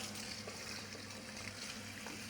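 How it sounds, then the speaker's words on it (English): Cold tap water runs steadily over rinsed boiled rice in a metal chinois in a home kitchen, a soft continuous splashing hiss heard close by, quiet and unbroken with no talking. "Turn on the cold water."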